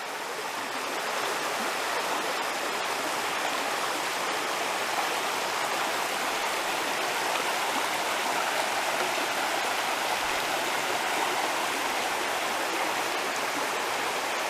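Water of the Rose River in Shenandoah National Park rushes along the Dark Hollow trail, a loud, continuous, even stream roar heard close up for the whole stretch.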